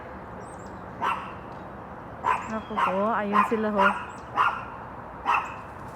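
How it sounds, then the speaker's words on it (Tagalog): Several dogs bark in short bursts at medium distance, scattered across the clip, with a person talking over them. "Ang iingay ng mga asungot kong mga aso."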